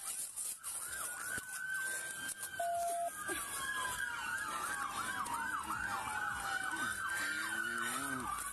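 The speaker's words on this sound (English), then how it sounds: "Go turn that siren off." A police siren wails nearby at an emergency scene after a shooting, sweeping and then switching to a quicker yelp, with a short horn tone and a passing engine underneath.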